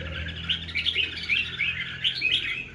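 Red-whiskered bulbul, freshly moulted and kept as a songbird, chirping in a steady run of bright, quick notes with brief pauses, fairly close and clear against a low background hum.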